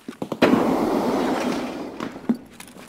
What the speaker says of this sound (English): Which side did that grenade come from?